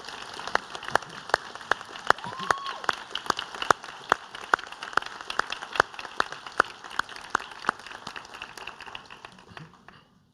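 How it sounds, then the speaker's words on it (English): A ceremony audience gives the faculty a round of applause: steady, dense clapping from many hands with sharper individual claps standing out, sustained for about ten seconds before ending abruptly. "Let's give them a round of applause."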